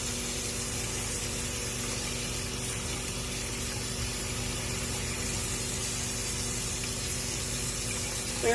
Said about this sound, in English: I'm gonna get cold water going.